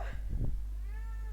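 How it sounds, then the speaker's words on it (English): Pet cat meowing close by, one drawn-out rising and falling meow followed by a quieter fading trill, over a low steady background hum. "So if you hear her meowing"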